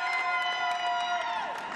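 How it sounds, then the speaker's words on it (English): A volleyball crowd at a match cheers steadily, a dense wash of voices and shouts held at an even level throughout. "Sure, you can hear the crowd going."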